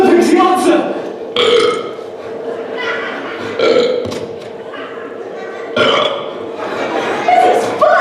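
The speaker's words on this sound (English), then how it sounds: "Oh, how I love to burp" A series of loud, drawn-out cartoon-style burps at a candy factory, several spaced a second or two apart, mixed with children's singing and chatter between them.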